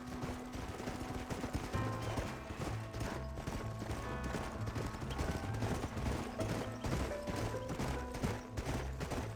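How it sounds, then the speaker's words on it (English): Horse hooves clopping in the video game Red Dead Redemption, a steady rhythmic clatter at moderate level under a continuous game soundtrack and other effects, with no talk. "O Jack não tá sabendo controlar o cavalo dele"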